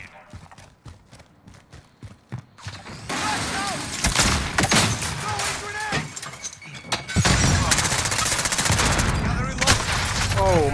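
Gunfire in Call of Duty: Modern Warfare, a scattered run of sharp shots and bursts that builds into loud, dense firing with game effects and talk mixed in.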